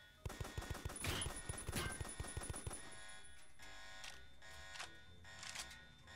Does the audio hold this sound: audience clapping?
no